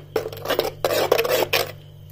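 Curd being stirred in an earthenware pot on an unlit stove gives several short, close scraping and clinking strokes, with brief pauses between them.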